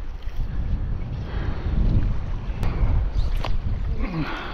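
Wind buffeting an open boat during a solo island fishing trip, a steady low roar with gusts rising and falling close to the microphone, plus faint creaks and knocks of gear.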